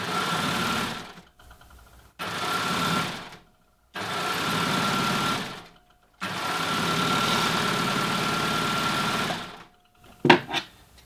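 An overlocker stitches a scrap of jersey fabric in four rapid bursts of steady mechanical whirring, loud and close, separated by short pauses and ending with a few sharp clicks.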